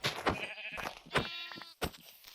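Sheep bleating in Minecraft, several short nasal bleats in a row, fairly close and clear, with no talking over them.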